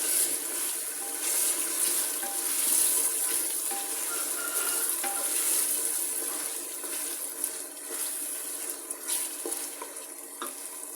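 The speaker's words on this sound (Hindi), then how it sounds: "अब मैं इसमें डालूँगी मटन और मटन की भी भुनाई करूँगी।" Mutton frying with spices in a pan for a mutton karahi, a steady close sizzle and hiss with occasional stirring scrapes running continuously and alone.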